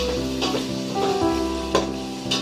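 Tomatoes and green chillies fry in a pan with a close, steady sizzle, while a spoon stirs and mixes them in a few scraping, clinking strokes.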